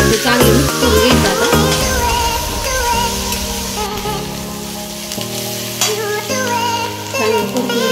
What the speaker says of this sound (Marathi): थोडासा कढीपत्ता ते चांगले मिक्स करून घ्यायचं